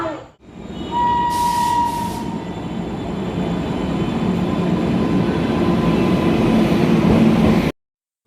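The Dadar–Porbandar Saurashtra Express rolls in at platform 1 at night, a steady heavy rumble of carriages with a brief high squeal of brakes early on, loud and continuous until it cuts off.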